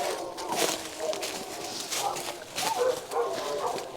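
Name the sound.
neighbor dogs barking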